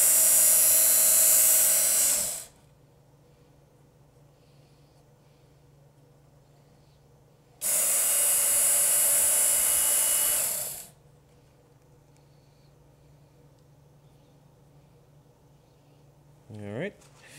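A Work Sharp Knife and Tool Sharpener belt grinds a knife in two loud, steady passes of a few seconds each, separated by a quiet pause, ending with a brief rising whir.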